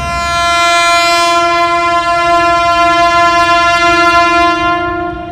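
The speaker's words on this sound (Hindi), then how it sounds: "तो अभी आप लोगों ने फर्स्ट डिपार्चर विसल सुन लिया भाई 18 डाउन का" Millat Express departure whistle at Malakwal station, with a CRRC Tangshan locomotive attached: one long, loud, steady horn blast lasting about five seconds, rich and tonal, close by with no voices.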